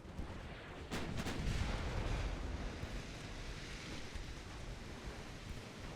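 Naval main battery gunfire in the warship game Ultimate Admiral Dreadnoughts: a heavy boom lands about a second in, then a long rumbling roar slowly fades, with no voices over it.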